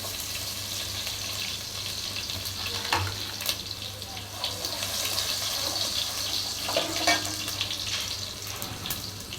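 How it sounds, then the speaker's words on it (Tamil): Crushed garlic cloves with skins and fenugreek seeds fry in hot oil with a continuous, moderate sizzle and hiss, broken by a few brief bursts of louder crackling. "இப்போ வெந்தயம் ஓரளவுக்கு நல்லா பொரிஞ்சிருச்சு. ஒரு 4 வெள்ளைப்பூடு எடுத்து தட்டி வச்சுருக்கேன் தொலியோட, அதை போட்டுக்குவோம்."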